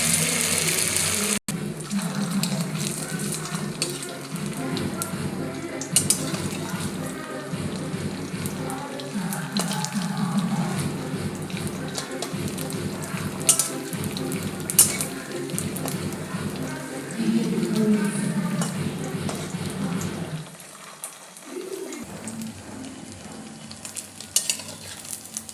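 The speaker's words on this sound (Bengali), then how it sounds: "দেখুন সাবুদানাগুলো তেলের মধ্যে কত বড় বড় হয়ে গেছে" Sabudana pakoras bubble and sizzle in hot oil in a pan, a continuous close crackling fry with scattered pops and stirring clatter, briefly dropping near the end before resuming.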